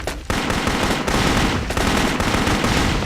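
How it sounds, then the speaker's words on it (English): Sustained automatic machine-gun fire in the video game Metal Assault, a dense unbroken rattle of rapid shots after a brief quiet start, loud and close with no talk. "I need to reload before I can switch over to this machine gun"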